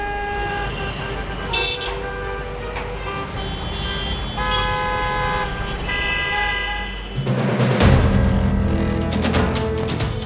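Several car horns honk in overlapping toots amid a steady traffic rumble, with road noise growing louder near the end.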